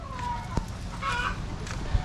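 Chickens clucking close by in a rural yard after a storm, a few short clucks and squawks over a rough outdoor background.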